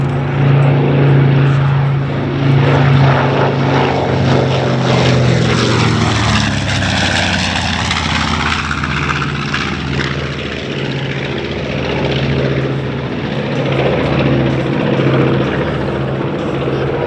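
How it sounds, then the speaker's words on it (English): A B-25J Mitchell twin-propeller bomber passes at an air show, its loud continuous engine drone swelling and shifting in pitch as it flies by, with no talk. "The original design of the B-25 was mainly for level bombing, with machine guns installed only to defend the airplane."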